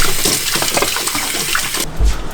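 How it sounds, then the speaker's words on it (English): Water splashes and pours over a new bicycle on a balcony to test its waterproofing, a steady broadband rush of liquid that swells into a heavier splash near the end. "No, I don't want water chucked on me, Francis."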